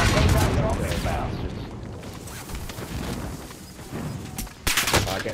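Call of Duty: Modern Warfare gameplay carries bursts of gunfire and heavy explosive booms, loud at first and again near the end, with rattling shots in between.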